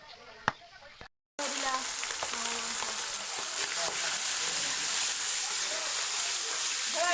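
Fish frying in a pan in a home kitchen, a steady loud sizzle that starts abruptly after a brief pause and continues unbroken, with faint stirring.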